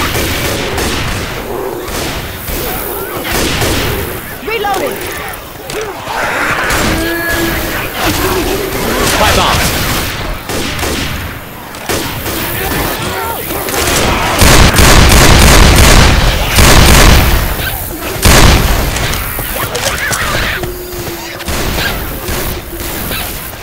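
Gunfire in Left 4 Dead 2 aimed at a clown zombie at a fairground carnival, loud bursts of shots and booms rising to a dense volley midway, mixed with game noise and voices calling out.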